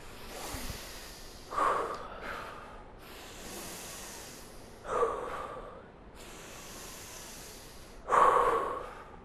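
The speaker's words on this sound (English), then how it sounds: "Ready. Deep breath." Deep, forceful breathing exercise before cold water therapy: three loud, sharp inhales or snorting gasps roughly three seconds apart, each followed by a long, softer hissing exhale, close to the microphone with no talking.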